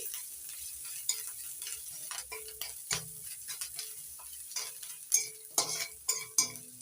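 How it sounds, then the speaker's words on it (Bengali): Grated coconut, chopped green chili and salt fried in a pan, with a spatula scraping and stirring in irregular clattering strokes over a soft, quiet sizzle. "নাড়াচাড়া করে মিশিয়ে একটু ভেজে নিয়েছি"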